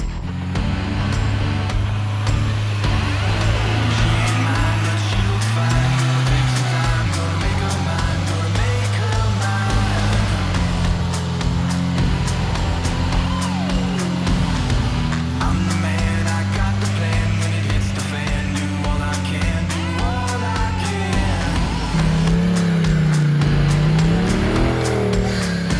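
An off-road vehicle climbs a steep competition hill, its engine roaring loud and continuous for the whole stretch, with the pitch repeatedly rising and falling as the throttle works against the slope.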